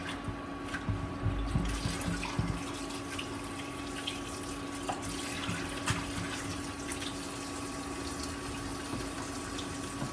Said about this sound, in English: Let's wash the bok choy here. In Vietnam, we wash them in water 3 times to clean the dirt or even the chemical.